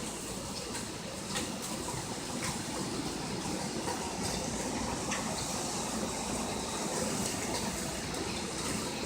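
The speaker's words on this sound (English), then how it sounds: "Ooh, that's a big wind, Gus" Strong gusting wind of Hurricane Irma roaring outdoors, a continuous broadband rush with occasional harder buffets, loud and steady throughout with no talk.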